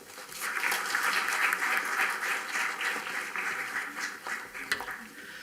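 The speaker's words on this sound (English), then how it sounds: "Let's give a huge round of applause." An audience at the inaugural session of an engineering school's annual E-Summit gives a sustained round of applause, a dense wash of many hands clapping at a steady level throughout.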